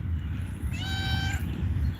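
A single clear meow from a nearby cat, rising and falling over about half a second against low background rumble.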